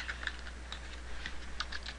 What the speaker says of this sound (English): I'm just gonna type in my stuff.